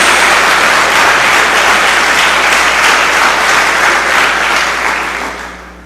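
A church congregation claps loudly and steadily, a dense, sustained wash of applause that fades out gently toward the end, with no talking over it.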